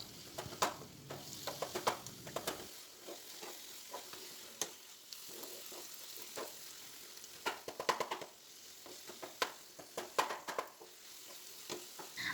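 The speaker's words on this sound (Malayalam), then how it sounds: "അപ്പോൾ നീളത്തിൽ അങ്ങനെ കിടക്കുന്നതുകൊണ്ട് ഒന്ന് ചെറുതായിട്ടൊന്ന് നമുക്കിത് ഉടച്ചു കൊടുക്കാം." Softened tomatoes being mashed in a pan for egg kurma, a quiet simmering sizzle broken by irregular scraping and tapping of a spoon against the pan.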